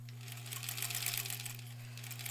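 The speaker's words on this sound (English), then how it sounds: "Oh god, the machine is working so much better than last night." Domestic sewing machine stitching border pieces for a granny squares quilt, a steady close whirring hum with a constant motor drone and rapid needle chatter running throughout, no voices.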